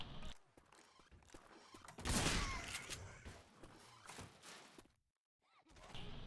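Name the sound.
shotgun fire in Left 4 Dead 2 video game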